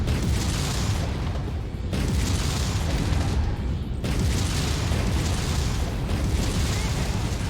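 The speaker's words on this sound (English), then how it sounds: "An ammo blast just cooked off." An ammo explosion in MechWarrior 5, heard as loud, continuous booming blasts and rumbling with abrupt breaks near two and four seconds, while a voice talks over the din.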